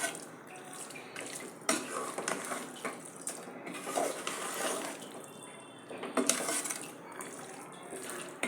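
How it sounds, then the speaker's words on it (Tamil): Water pours into a pot of potato kurma with a continuous splashing, running sound, and occasional clinks of metal vessels are close by. "தண்ணி சேர்த்துக்கலாம்."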